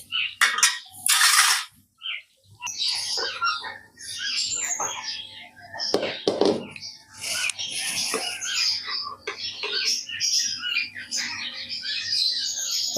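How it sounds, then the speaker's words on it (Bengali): Rohu fish kalia curry being poured out of a cooking pan after the gas is turned off: metal clinks and scraping of spoon against pan, with a person talking throughout. "এবার গ্যাসটা অফ করে দিচ্ছি। এবার ঢেলে নেব।"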